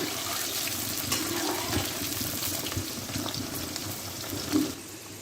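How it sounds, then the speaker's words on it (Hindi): Potatoes frying in oil over medium heat give a steady, close sizzle and crackle that runs evenly for about five seconds, with a slightly louder pop near the end and no talking. "अब इसी ऑयल में जो है वो हम पोटैटो फ्राई करेंगे।"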